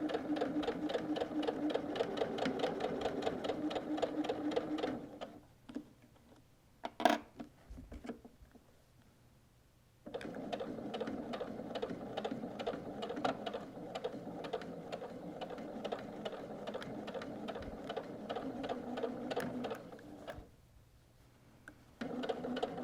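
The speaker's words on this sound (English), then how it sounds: "My machine is set to straight stitch once again, and I'm going to sew right above where those zigzags are at the handles." A sewing machine stitching a straight seam on a canvas tote near the handles, a steady rapid mechanical chatter in two long runs separated by a quiet pause with a brief click, close and alone.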